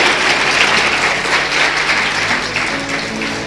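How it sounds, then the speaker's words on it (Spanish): A church congregation gives strong applause during a worship service, a sustained, dense roar of many hands clapping that stays loud throughout and eases slightly toward the end. "den un fuerte aplauso al Rey de Gloria"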